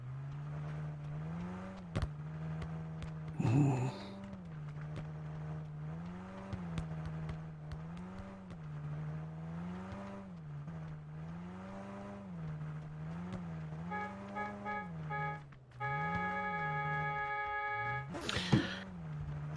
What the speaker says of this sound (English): I hear the car.